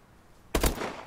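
Automatic gunfire in the video game Call of Duty: Advanced Warfare erupts after a quiet half second, a loud rapid burst of sharp shots followed by one more crack at the end.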